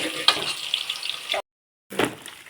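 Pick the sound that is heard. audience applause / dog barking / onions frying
onions frying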